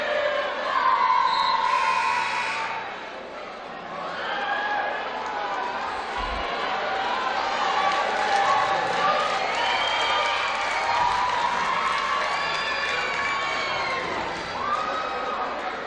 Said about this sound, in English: this is a pretty good Friday night crowd here